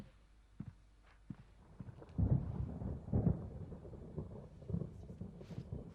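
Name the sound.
thunderstorm in the video game Alan Wake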